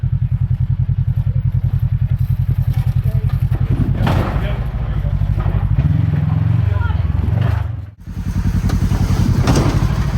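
A Kawasaki KRX side-by-side crawling over rocks at Black Mountain, Kentucky, its engine pulsing loud and close with a steady chug, rising under throttle then cutting out briefly near the end amid clatter, with voices talking over it.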